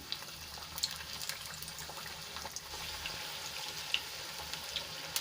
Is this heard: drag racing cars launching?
no